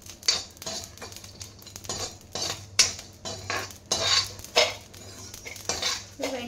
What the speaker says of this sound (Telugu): లో ఫ్లేమ్ పెట్టుకొని వేయించుకోవాలి